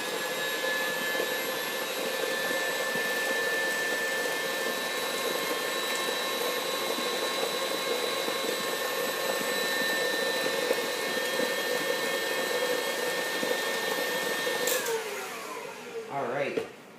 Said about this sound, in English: So now we're going to mix this just for another minute or so, maybe less, just till it's all fully incorporated.